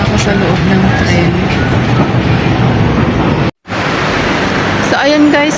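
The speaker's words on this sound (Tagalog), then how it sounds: "dito na ako sa loob ng tren." Inside a moving train in Hong Kong: a steady, loud, broadband rolling rumble with rattling carries on without a break, briefly cutting out once near the middle before the same train noise resumes.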